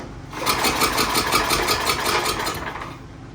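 A Simplicity snowblower's small engine runs steadily up close, a loud, even pulsing chug that holds for about three seconds before easing off.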